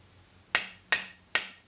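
A fly-tying hair stacker is banged on a hard table three times, each a sharp, close metallic knock at an even pace, with quiet between.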